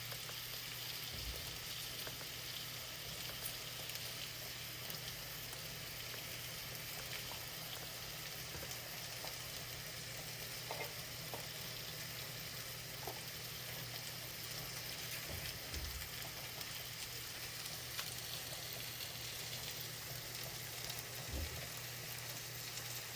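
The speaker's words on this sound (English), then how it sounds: "Hear that sizzle?" Peppers and marinated food sizzle steadily in a frying pan, a soft continuous crackle and hiss at low volume with no talk.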